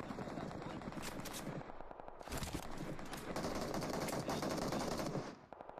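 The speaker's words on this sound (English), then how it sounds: "Where's this guy shooting from?" Video game gunfire rattles in sustained automatic bursts of rapid shots, fairly close and dense, with brief gaps between the volleys and faint background voices.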